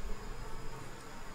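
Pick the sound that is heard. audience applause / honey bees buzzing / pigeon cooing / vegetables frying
honey bees buzzing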